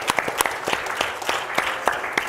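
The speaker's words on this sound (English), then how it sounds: "let's just give all the presenters kind of a round of applause" Audience applause for presenters at an oil and gas industry tech showcase, a lively crowd clapping with distinct, rhythmic sharp claps close by over a dense wash of hands.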